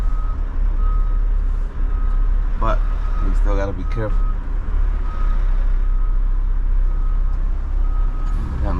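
Steady reversing beeps from a front-load trash truck backing out of a street early in the morning, repeating under a loud idling diesel engine while someone talks briefly.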